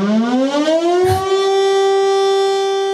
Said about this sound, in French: Hop, petite sirène, parce que là, c'est important, petite sirène.